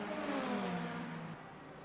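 A Ferrari and a BMW GT3 race car in a sim racing game at the Algarve circuit produce a faint, steady engine whine that slowly drops in pitch, then fades slightly, with no talk over it.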